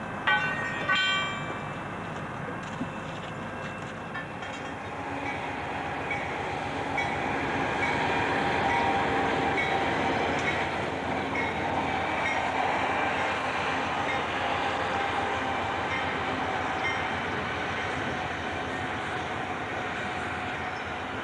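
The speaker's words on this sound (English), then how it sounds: "Amtrak train 683 arrived in Dover, New Hampshire." An Amtrak passenger train rumbles past on the rails in Dover, New Hampshire, its wheels clattering steadily as the broad roar swells, holds for a long stretch, then eases slightly.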